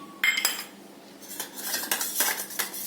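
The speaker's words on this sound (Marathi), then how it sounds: "हे पीठ यामध्ये टाकायचं आणि घोटून घ्यायचं" A spoon clinks and scrapes against a metal pot several times while stirring finger millet flour into sambar, irregular stirring knocks, close and fairly loud.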